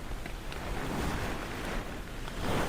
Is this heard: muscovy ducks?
no